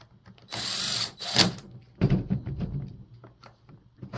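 A single bolt is driven back into the power head of a STIHL FS 100RX string trimmer, with bursts of ratcheting tool clicks and metallic mechanical rattles close by, separated by short pauses.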